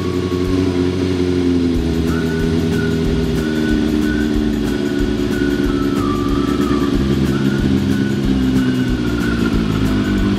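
A 1995 Yamaha YZF 750R motorcycle engine idles steadily on choke, a continuous low rumble with a slightly uneven, lumpy beat throughout, close and loud.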